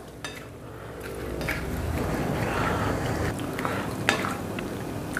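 Potato starch dough stirred with oil in a bowl, producing soft scraping and sticky squelching with occasional utensil knocks against the dish, close and continuous.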